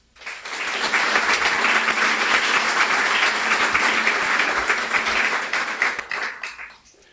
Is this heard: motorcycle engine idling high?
no